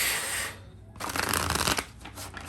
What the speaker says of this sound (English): So let's pull some tarot to go deeper